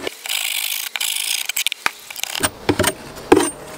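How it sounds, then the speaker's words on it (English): A hive tool scrapes propolis out of the rebates of a wooden bee hive, giving a run of close, rough scraping and knocking strokes. "So in here, all the way down, we need to just scrape that out."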